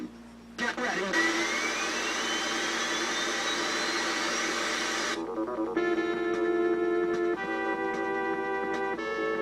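Jet engine roar in After Burner on the Sega Master System, a continuous synthesized rushing drone with a rising tone, then chiptune music beeps over the noise.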